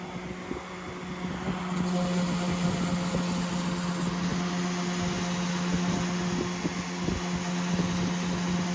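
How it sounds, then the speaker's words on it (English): A power sander whirs with a steady high drone, running continuously up close with faint scraping over an epoxy surface. "The first sanding."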